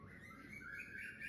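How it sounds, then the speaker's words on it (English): Birds chirp and tweet faintly outdoors, thin high calls rising over a low background hum, distant and continuous with no talking. "You can hear the sound of birds. What children? The birds are chirping."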